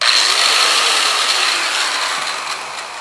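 A grinding disc on metal gives a loud, steady, high-pitched abrasive whine that holds almost unchanged for a few seconds, close and with no talking.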